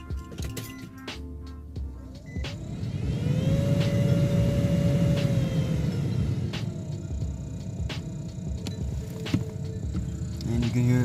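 A newly replaced blower motor in a 2007 Nissan Pathfinder spins up with a rising whine and then settles into a steady rushing hum of air. It sounds close, with a few clicks and handling noises around it.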